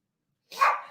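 A dog barks angrily from inside a house at a small white dog on the beach outside, one sharp, fairly loud bark after about half a second of silence.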